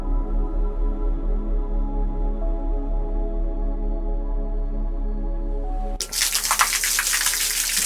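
Water poured into ground clay while preparing kulhad cups, a sudden loud gushing splash near the end, following several seconds of steady low machine hum with no voices.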